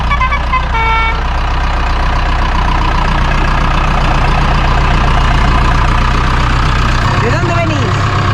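A tractor from Argamasilla de Alba, Ciudad Real, idles steadily at a rural vintage tractor gathering, a constant low engine rumble running throughout with people talking nearby.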